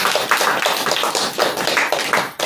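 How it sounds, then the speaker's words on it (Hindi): An audience at a Holi gathering applauding, many hands clapping together in a dense, loud, continuous burst that rises and falls slightly, close and without speech. "अनिल भाई जी के लिए ताली भी बजाइए।"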